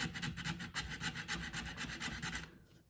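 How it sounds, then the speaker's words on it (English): A hand file rasps back and forth against a Kydex sheath edge, about a dozen close, even strokes in steady rhythm before stopping near the end. "So there's actual teeth on this edge of the file."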